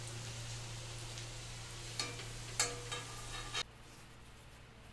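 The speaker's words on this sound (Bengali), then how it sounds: "আজ আবার অনেক দিন পর সৌম্যর আবদারে হচ্ছে লুচি ভাজা" Luchi, puffed fried flatbread, frying in hot oil in a home kitchen, with steady close sizzling, a few sharper crackles and spatters partway through, then quieter bubbling.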